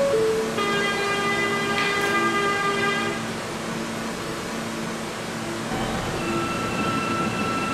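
An R160A M subway train in a Roblox game pulls out toward Metropolitan Avenue, a steady loud rumble and rolling hum with tonal motor whine rising and shifting as it gets under way, no voices.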